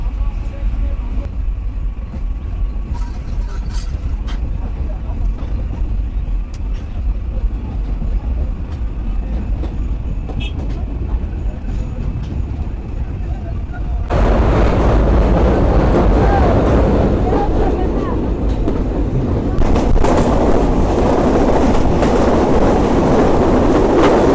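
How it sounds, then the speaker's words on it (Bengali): The Kapotaksha Express, running from Rajshahi toward Khulna, hurtles through rain toward Poradah Junction with a steady, loud rumble and wind noise that grows heavier and brighter about halfway through. "বৃষ্টির মধ্য দিয়ে আমাদের ট্রেন ছুটে চলছে পোড়াদহ জংশনের উদ্দেশ্যে"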